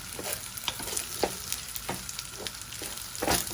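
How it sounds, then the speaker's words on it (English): Raw rice frying in a pan makes a steady close sizzle with several sharp stirring scrapes and clatters spread through. "So we're just going to keep frying it till it's a nice golden colour"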